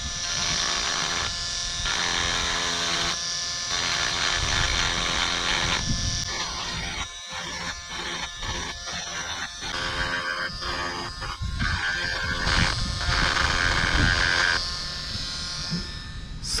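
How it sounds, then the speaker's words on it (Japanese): A small rotary tool grinds down a part of a Honda CR-Z position lamp, a high buzzing whine cutting in and out in short bursts of varying length, close and fairly loud. "この部分をリューターで削って干渉しないようにします。"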